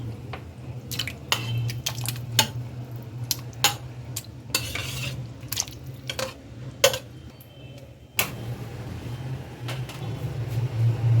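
Chicken goes into a cooking pot with soft sizzling, wet stirring and repeated sharp clinks of a metal spoon against the pot, close by and irregular, with a low steady hum underneath.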